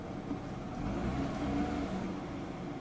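A 2008 Toyota Camry XLE with a 2GR-FE V6 engine idling smoothly and rising in a gentle rev, quiet and steady with a low hum, heard alone.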